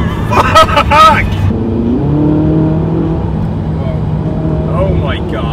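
Ferrari engine pulls up from a burst of excited shouting into a steady, rising drone, heard close from inside the cabin; a voice is heard briefly near the end.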